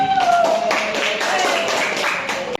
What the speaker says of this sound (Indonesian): Oke, tepuk tangan buat Adi.